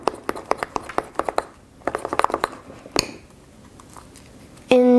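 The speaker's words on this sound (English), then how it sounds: "You need to mix it really hard." Hands vigorously mixing glittery homemade slime, giving a run of quick, sticky smacks and squelches in bursts, a pause, then a sharper clack and a sudden louder rush at the end.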